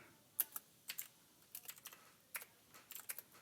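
A computer keyboard being typed on to enter a chmod command, with quiet, close clicks in small clusters and short gaps between, heard alone.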